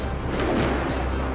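An old Russian tank on northern ramparts fires at enemy positions in a battle, heard as a loud, sustained blast with a heavy low rumble and a crashing burst roughly midway through.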